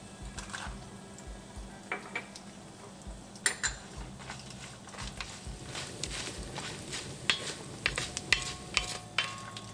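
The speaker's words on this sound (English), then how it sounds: "Saute these for a few seconds until the cumin starts browning. Then we'll add the cashews." Cumin seeds and cashews sauté in a hot pan, with a constant low sizzle broken by irregular clinks and scrapes of a utensil stirring against the pan.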